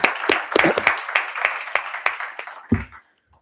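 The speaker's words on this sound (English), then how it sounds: "So let's just give them a round of applause." A small audience at a school board public session claps for honored students: a scattering of distinct, close hand claps that thin out and stop after about three seconds.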